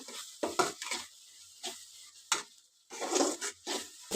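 Masala spices cooking in a pan for a bitter gourd curry, with intermittent stirring scrapes and soft sizzling bursts, close and fairly quiet, several strokes separated by short pauses.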